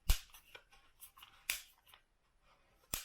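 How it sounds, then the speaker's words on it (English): Several sharp plastic clicks from twisting the nozzle on a Karcher K7 Premium Smart Control pressure washer lance, heard close and fairly quiet, with softer handling rustles between them. "So when you twist, it will activate, as you can hear with the click,"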